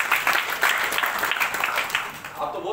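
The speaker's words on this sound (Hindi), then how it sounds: "प्लीज जरा सर के लिए जरा जोरदार ताली।" Audience at a business plan presentation in Mumbai breaking into applause, a brief burst of moderately loud clapping with people talking at the same time.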